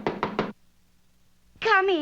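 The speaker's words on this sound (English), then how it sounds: "Just then there was a knock" Three quick raps on a door in a Rocky & Bullwinkle cartoon, crisp and close, followed by a pause and then a voice speaking.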